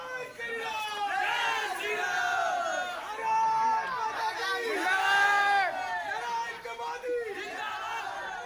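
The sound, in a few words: party workers chanting Modi Modi slogans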